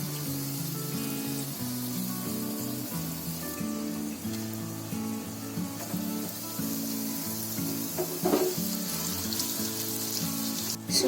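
Food fries in oil in a pan with a steady low sizzle and crackle throughout, partly covered by soft background music, with a few louder pops toward the end.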